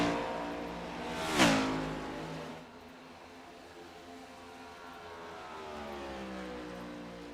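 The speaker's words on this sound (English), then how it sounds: "You can see Hoppy really getting into it, that head turning with him as he's turning that car." A race car on the Indianapolis track in a Naras Cup Series event sweeps past with a rising then falling engine whine, peaking sharply before receding into a steadier distant drone.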